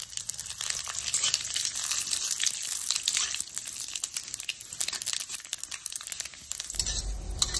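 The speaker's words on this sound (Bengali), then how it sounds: "সর্ষের তেল দেওয়ার পরে ফোড়নে দিয়ে দেব 5 ফোড়ন," Dried red chilies, bay leaves and five-spice (panch phoron) sizzle and crackle steadily in hot mustard oil for a masoor-style dal tempering, a close, continuous crinkly frying hiss with a brief heavier crackle near the end.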